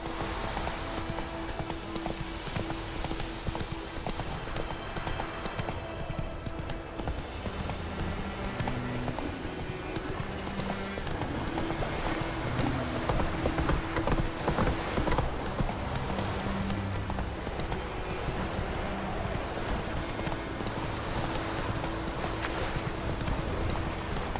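A horse gallops in The Witcher 3: Wild Hunt, its hoofbeats a steady rhythmic clip-clop across a dense game soundscape. It stays at an even, moderate level throughout, with no talk over it.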